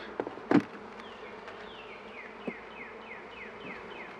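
Honey bees buzzing around a freshly moved beehive, a faint steady hum with repeated passes of individual bees flying near, plus a couple of soft knocks early on.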